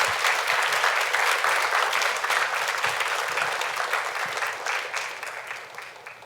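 A church congregation at a Wednesday worship service applauds warmly to welcome a speaker, a full, steady roar of clapping that gradually tapers off.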